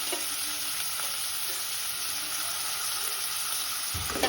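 Onion and tomato frying in oil in a pan, a continuous close sizzle with occasional stirring clinks, loud and even throughout.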